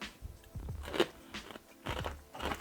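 Freeze-dried beans from a Norwegian arctic field ration crunch between teeth in a few close, crackly bites with brief pauses, no talking.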